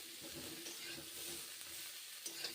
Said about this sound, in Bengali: ভেজে নিচ্ছি পেঁয়াজ ফুলকপি এখন ভেজে নিচ্ছি